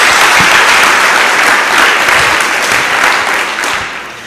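A church congregation applauds after a call to clap for Jesus during a Portuguese-language sermon: dense, loud, steady clapping that fills the space for several seconds, then tapers slightly toward the end.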